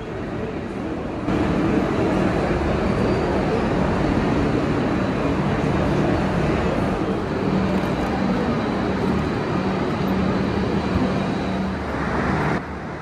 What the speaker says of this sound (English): We just made it to Southern Cross Station. It's always hustling and bustling here.